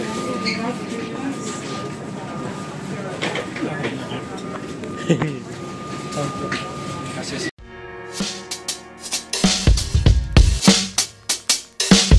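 A Melbourne city train runs along the rails with a steady rumbling roar and a faint whine, then moves on to sharper clattering clicks and rattles as it crosses track joints. People talk over the noise.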